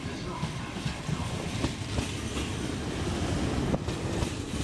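A new passenger train bound for London pulls in at a UK station, a steady broadband rumble and rattle of carriages near and loud throughout, with faint voices in the background.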